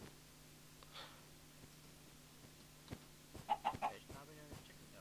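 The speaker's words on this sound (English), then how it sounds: "I found a duck, a chicken." A chicken in the video game Minecraft gives a few faint, quick clucks near the end over a low steady background hum.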